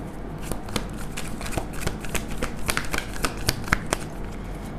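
Tarot cards shuffled by hand in a rapid run of crisp riffling slaps and flicks, close and continuous with no talk.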